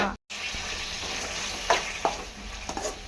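Tomato fries in a pan with a steady close sizzle, broken by a brief gap near the start and a few soft scrapes or taps of stirring toward the end.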